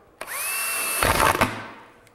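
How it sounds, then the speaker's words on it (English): A power drill fitted with a step bit bores a hole in a plastic container lid for a fermentation lock, whining as it spins up, then grinding harshly through the material for about half a second before winding down. "I'm using a step drill so that I have a nice round hole to seal my stopper."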